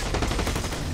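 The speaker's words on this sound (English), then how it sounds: "No, I just bought a minigun." Rapid minigun fire in a video game, a dense loud continuous burst of shots across a single second, close with no voices.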